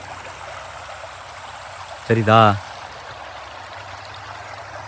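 Fast water rushes steadily through a village irrigation canal, a constant close hiss and gurgle, briefly overlaid by a short spoken word midway.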